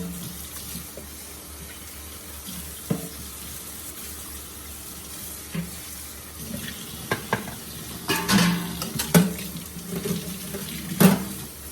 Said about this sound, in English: Rinse all my other utensils off.